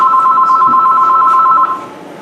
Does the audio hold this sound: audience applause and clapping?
no